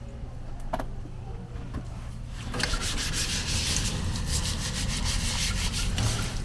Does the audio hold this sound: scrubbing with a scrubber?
yes